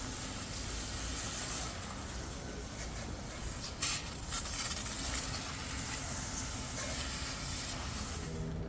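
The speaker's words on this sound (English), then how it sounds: "And to activate the sprayer, you simply push the button right here." A garden sprayer hisses steadily as it mists water onto seedlings, a continuous broad spray with a brief louder burst midway, close and even.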